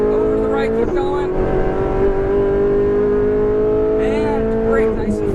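A Ferrari 458 Italia accelerates on a track, its engine a loud, close rising wail that climbs steadily in pitch, with a second surge of revving near the end under occasional instructor speech.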